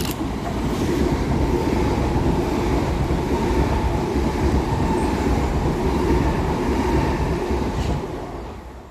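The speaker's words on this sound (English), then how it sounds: "Passing fast through the station is 387213 and 387226, working 1 Mike 99 for Gatwick Express from Brighton to London" Two Gatwick Express units, 387213 and 387226, rush fast through Preston Park station on the Brighton to London Victoria run. A loud, close rumble of wheels and clatter on the rails holds steady and then fades as they pass.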